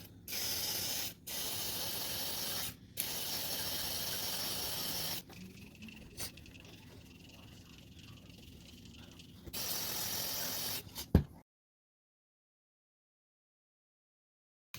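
Mass air flow sensor cleaner sprays in long hissing bursts of several seconds each, close and loud, broken by short pauses and a quieter stretch, then ending abruptly.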